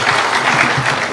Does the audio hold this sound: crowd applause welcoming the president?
yes